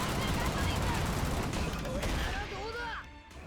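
A dense, rapid punch barrage from the Kong Gatling Rush move in the Shonen Unleashed fighting game: loud continuous gunfire-like pummeling that eases off near the end, with a few whistling tones trailing behind.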